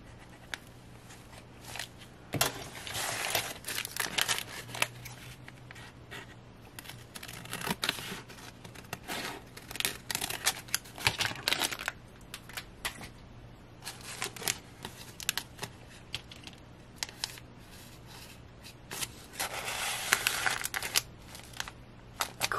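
A paper tag for a junk journal is cut and handled up close, with quiet intermittent snips, rustles and crinkles in irregular bursts and no voices.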